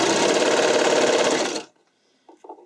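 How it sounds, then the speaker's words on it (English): Domestic sewing machine stitching through three layers of stretch fabric for a skating dress, running in one loud, steady mechanical burst for about a second and a half, then stopping abruptly, with a few faint clicks afterward. "you're sewing through all 3 layers without any bunching"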